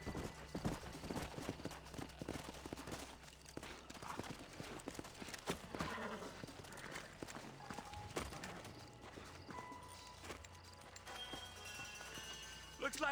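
Horses' hooves clopping in the Western video game Red Dead Redemption, a dense run of hoofbeats under game music and effects, with voices talking.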